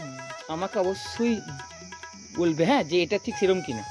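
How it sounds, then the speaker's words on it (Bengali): Crickets chirp in a steady high drone near the jungle by a temple gate, a continuous insect trill heard under a person speaking throughout. "আর এমনি ঝিঝি পোকার ডাকও কিন্তু আমরা শুনতে পাচ্ছি।"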